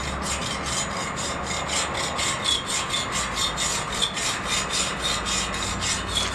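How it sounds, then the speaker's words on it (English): A metal scraper works rust off the bottom of a heavily rusted vending machine rack, a continuous close grating rasp with rhythmic back-and-forth strokes, loud and steady throughout with no voices. "So we're going to start with the scraper. We're going to get a lot of that"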